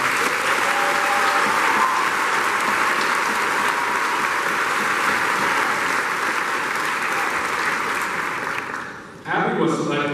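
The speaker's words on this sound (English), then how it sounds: "Please stand up, ladies and gentlemen, give her a round of applause." Sustained, dense applause from a large audience at a STEM academy's 2024 high school graduation, honoring a scholarship recipient, steady and loud for about nine seconds before cutting off abruptly.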